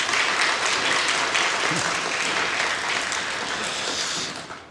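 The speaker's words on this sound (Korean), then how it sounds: "2050년 우리 교회 장로가 될 찬이와 그의 족속들이 했는데 우리 박수로 한번 격려해 주시죠" A church congregation applauds during a Sunday worship service, a steady, dense wash of clapping that holds strong for several seconds before tapering off at the end, with no voices over it.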